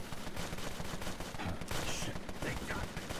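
Gunfire in the video game Empire of Sin forms a dense, continuous crackle of overlapping shots at a steady, moderate level, with some sharper bursts in the middle.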